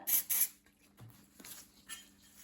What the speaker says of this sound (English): So I'm just spraying my polish onto my duster